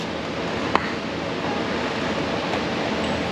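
A steady hiss of water sprays over a Volkswagen Jetta 2.5 headlight during a restoration rinse, close and continuous, with a brief tap early on.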